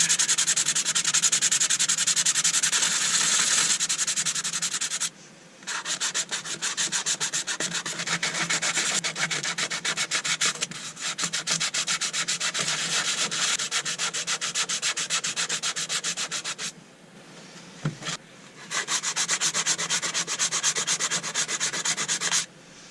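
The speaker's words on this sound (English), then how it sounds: "So it's all going to be a bit of hand sanding from now on." Steady rasping of sandpaper on a sponge block rubbed back and forth on a wet, fibrous wooden turned bowl, continuous strokes with a few brief pauses, close up and with no talking.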